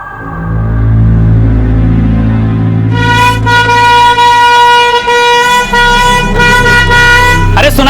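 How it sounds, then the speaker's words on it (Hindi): A loud truck air horn blasts repeatedly in long sustained tones over a rumbling engine, close by and dominating, with a voice shouting beneath it. "हॉर्न मारो"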